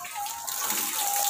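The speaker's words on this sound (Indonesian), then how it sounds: "Jadi langsung buka keran, kita langsung nyala" Water gushing from a freshly opened tap fed by an overhead tank, a steady, close rushing stream that swells slightly after a moment.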